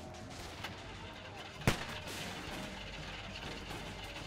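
A single sharp gunshot in The Walking Dead game, cracking out once midway over a quiet, steady game backdrop, with faint talk around it.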